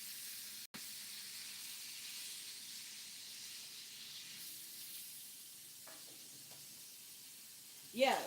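Meat for a cheesy egg sausage scramble sizzling in a pan, a faint, steady hiss running underneath with a sharp click early on and a brief louder clatter at the end.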